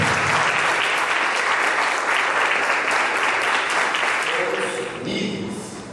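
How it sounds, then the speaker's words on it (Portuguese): Members of a church congregation applauding the Lord, a loud, dense, sustained burst of clapping that fades slightly near the end as a voice begins to speak. "aplauda o Senhor"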